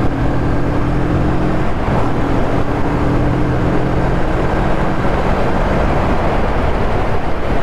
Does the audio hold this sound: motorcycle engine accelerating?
yes